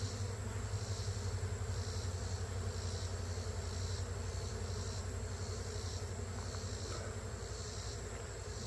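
Honey bees buzz around an opened backyard hive, a dense, continuous drone heard close and loud throughout, with no talking.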